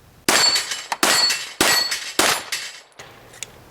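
Four sharp, loud pistol shots from a long-slide Glock ring out at a steady pace, each a crisp crack with a short ringing tail, followed by quieter background noise.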